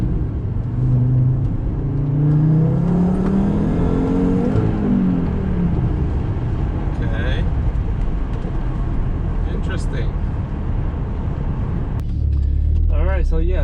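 A Volvo S60R/V70R with stage 2 tuning and AEM water methanol injection on a test drive, its engine loud and close with a rising rev sweep early on, then a steady rumbling cruise and another surge near the end.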